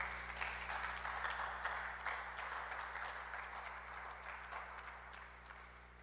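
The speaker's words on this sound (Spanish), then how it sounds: "Le hace un aplauso al Señor." Congregation applauding in a church, a steady, fairly soft wash of clapping heard from a distance that slowly fades over several seconds.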